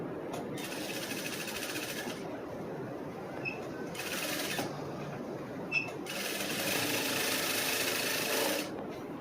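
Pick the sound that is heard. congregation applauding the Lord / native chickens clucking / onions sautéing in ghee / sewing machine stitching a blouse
sewing machine stitching a blouse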